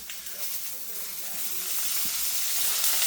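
Eggplant frying in oil in a pan, a steady soft sizzle and hiss that builds slightly louder over a few seconds, with a couple of faint utensil taps and no talking.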